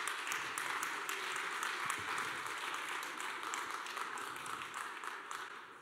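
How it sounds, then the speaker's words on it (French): Audience at a French restaurateurs' conference applauding as guests join the stage, a sustained, moderately loud patter of many hands continuing evenly throughout. "On peut les applaudir, ça va leur donner un peu d'encouragement."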